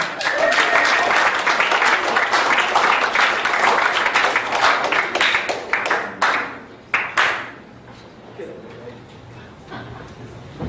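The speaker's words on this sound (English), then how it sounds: "That clap couldn't have been any longer." A comedy club audience claps and cheers loudly for a comic coming on stage, the dense applause thinning into a few scattered claps before fading out.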